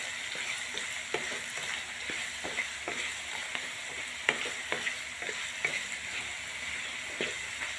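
Spices and potatoes being stirred in a frying pan for morio (samo seed) khichdi, with red chili, coriander-cumin powder and salt; a steady faint sizzle runs under repeated soft scraping strokes of a spoon, no voices.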